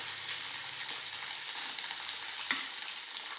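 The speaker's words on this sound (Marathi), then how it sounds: "आता मी त्यात बटाटे टाकून देतो।" Potatoes dropped into a hot spice tempering on a high flame, frying with a loud, steady hiss and sizzle throughout, a brief clatter late on, no voices.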